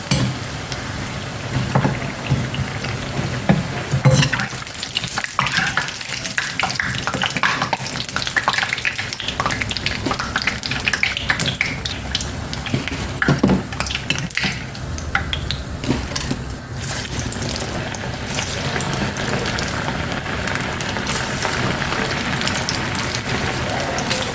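Bhajji batter shaped like bondas frying in hot oil, with a loud continuous bubbling sizzle, occasional stirring and clinks of a utensil against the pan throughout.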